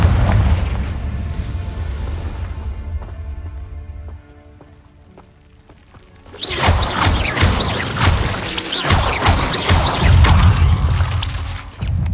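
A Confringo blasting spell goes off in Hogwarts Legacy, a loud booming explosion bursting in partway through and rumbling on with crashing debris over a busy game soundscape.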